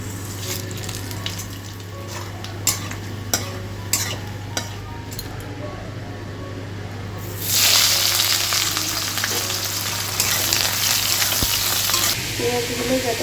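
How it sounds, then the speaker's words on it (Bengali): Whole spices (cumin, dried red chilli, bay leaf, cinnamon, cardamom, cloves and a little sugar) drop into hot oil for a Bengali chicken kosha. Quiet clinks and faint stirring come first, then a loud, steady sizzle bursts up and carries on to the end. "ফোড়নের জন্য নিয়ে নিয়েছি জিরে শুকনো লঙ্কা তেজপাতা দারচিনি এলাচ লবঙ্গ আর কালার হওয়ার জন্য একটু চিনি তো এটা ফোড়ন দেবো"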